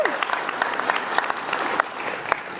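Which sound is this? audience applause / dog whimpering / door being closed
audience applause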